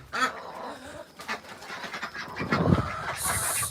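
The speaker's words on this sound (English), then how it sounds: "I currently can't hear myself think with all of the chickens and ducks going on here" Farmyard chickens and ducks squawk, cluck and quack close by in irregular bursts, a noisy cluster of birds with a louder flurry toward the end.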